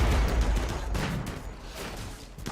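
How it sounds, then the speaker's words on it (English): Explosions and gunfire crackle in the video game RimWorld, a loud initial blast followed by scattered rattling bursts and decaying rumble over the remaining seconds. "There's this explosion will hopefully kill both."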